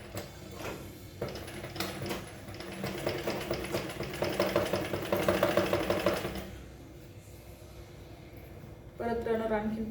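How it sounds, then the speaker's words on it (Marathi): A sewing machine stitching a bag from small fabric scraps, running in uneven bursts with a mid-pitched mechanical whir, close by, while someone talks over it at times. "आणि अशाच प्रकारे आपल्याला स्टिच करून घ्यायचं आहे."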